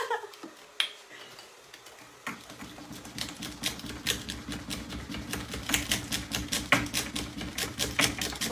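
Instant Nescafé coffee mix is whisked by hand in a cup while making iced coffee, producing a rapid, steady stream of close, crisp ticking strokes that continues for several seconds.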